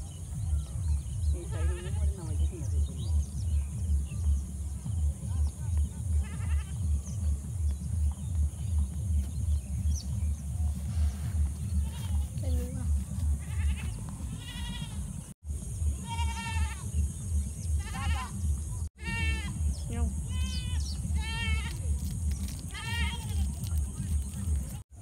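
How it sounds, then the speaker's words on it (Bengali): Goats bleat again and again in a rural field at Kuthabari, some calls close and loud, others overlapping, all over a steady pulsing low rumble. "এগুলা কার ছাগল?"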